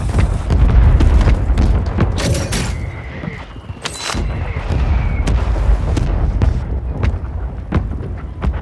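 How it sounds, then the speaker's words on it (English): Mortar strike explosions in the Call of Duty video game, a run of heavy booms and blasts with sharp cracks of gunfire scattered through, loud and continuous over several seconds. "Friendly mortar strike inbound."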